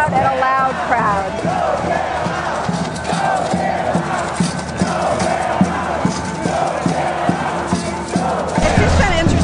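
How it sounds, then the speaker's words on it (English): A big, loud protest crowd packs Wall Street, with dense chanting and roaring voices rising and falling in rhythmic waves, close and continuous throughout. "It's quite a big crowd and a loud crowd."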